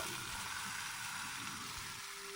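A quiet, steady sizzle of spices frying in hot oil, with a constant hiss and no voices.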